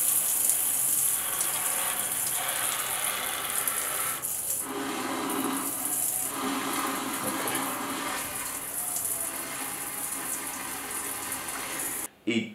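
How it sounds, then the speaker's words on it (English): Water running steadily through a hydro-powered smart shower system that generates its own power from the flow, a continuous broadband rush with slight surges, ending with a brief cutoff near the close. "the water that flows inside the system generates its own power"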